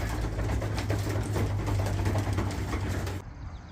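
Racing pigeons coo on a roof in rainy weather, a low rhythmic cooing under steady rain patter and outdoor noise that drops away near the end.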